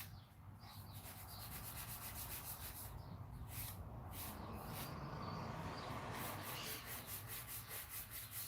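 A nail file rubs back and forth over a fingernail in a continuous, close, raspy scraping that stays steady and fairly faint throughout, with no voices.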